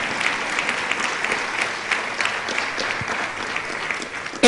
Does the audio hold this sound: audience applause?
yes